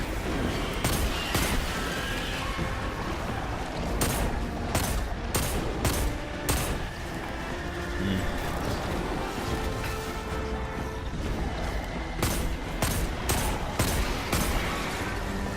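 Rapid bursts of gunfire from Destiny 2 crack repeatedly over a busy background of game sound, sharp shots clustered irregularly and fairly loud throughout.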